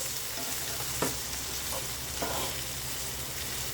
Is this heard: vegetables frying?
yes